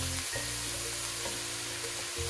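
Potato, cabbage and carrot pieces fry in a hot pan, giving a steady, close sizzle with brief stirring bursts and no voices.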